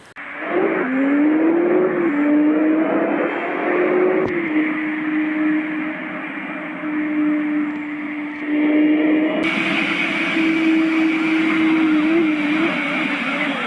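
Vintage BMW M3 driving in Bus Simulator Indonesia, its engine droning steadily and loudly with rising pitch on acceleration and gear changes, continuous throughout with no talking.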